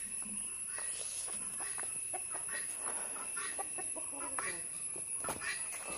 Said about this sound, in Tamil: எங்க கிண்ணிக்கோழி அங்கே கத்திட்டு இருக்கு